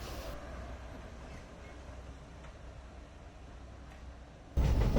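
A steady loud rumble from inside a moving historic train carriage near Kromlau, Germany, continuous rattling and low roar, with a sudden louder jolt near the end.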